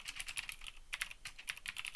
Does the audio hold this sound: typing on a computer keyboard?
yes